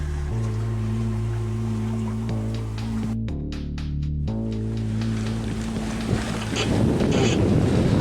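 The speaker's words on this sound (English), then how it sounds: "the winds are swirling around, and we're now trying to sail north in a northwest wind" Wind rushes steadily around a sailboat under full sails in the Caribbean, mixed with water and waves against the hull and a low continuous drone, with brief gusty buffeting.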